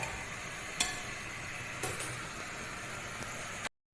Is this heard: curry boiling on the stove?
yes